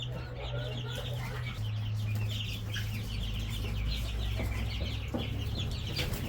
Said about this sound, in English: My buddy Dave brought us some new chickens as well, more egg layers